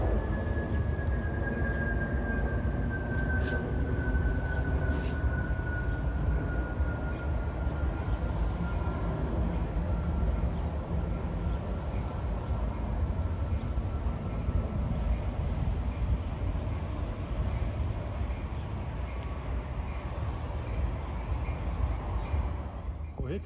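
Amtrak Keystone train 652 from Harrisburg to New York, led by a Metroliner cab car, rolls into New Brunswick, New Jersey on the local track. A loud, continuous rumble is heard, with a faint high tone that slowly falls early on.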